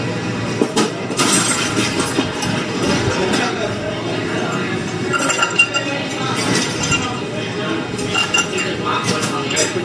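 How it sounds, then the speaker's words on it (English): A Mezcal Negroni stirred with a bar spoon in a mixing glass, steady light clinking of ice and glass running throughout, close and moderately loud with faint background noise. "Quick stir."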